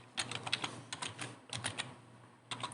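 Quick bursts of typing on a computer keyboard while entering a label into a Delta PLC program, with close, crisp key clicks in three short runs separated by brief pauses.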